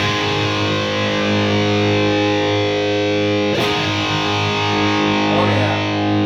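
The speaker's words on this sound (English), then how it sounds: "you're going to hear a tone shift by turning on the reverb" Sustained distorted electric guitar chord ringing through an EVH 5150 Iconic amp with reverb turned on, leaving a washy reverb tail, plus a short scraping swipe midway.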